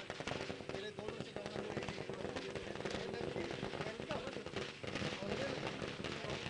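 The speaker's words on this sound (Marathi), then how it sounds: "फटाक्यांच्या आतषबाजीने सन्मान केलं जातोय" Firecrackers burst in a dense, continuous crackling barrage during a celebration at a semi-final tournament cricket match, with commentary voices running underneath.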